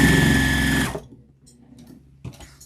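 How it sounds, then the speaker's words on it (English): A sewing machine stitching charm squares together for a scrappy bag runs loud and steady for about a second, then stops, leaving a quiet hum and a few small clicks. "I'm just sewing my little squares together."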